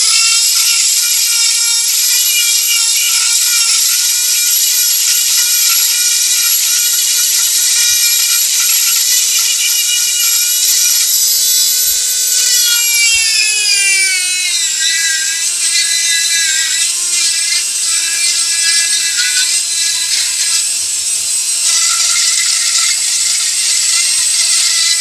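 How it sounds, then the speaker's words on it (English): A Dremel rotary tool carving wet wood gives a steady high-pitched whine throughout. Partway through, the pitch drops sharply as the tool bogs down under pressure, then holds at a lower, rougher tone. "as soon as I put any pressure on this, my Dremel slows right down."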